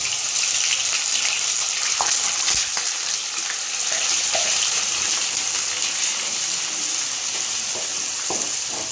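Onion paste sizzles and fries in hot oil with bay leaves in the pan, a loud, continuous hiss broken by occasional stirring clinks and scrapes.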